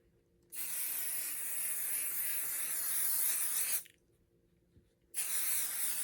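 Two bursts of temporary spray adhesive onto fabric, a long steady hiss of about three seconds, a short pause, then a second hiss starting; close and fairly loud.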